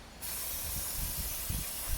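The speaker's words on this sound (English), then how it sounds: "And you spray until the fluid drains out pretty much clear." Cleaner is sprayed through the fluid channels of a Jaguar X-Type 5-speed automatic transmission valve body, making a steady, close, continuous hiss with faint spattering.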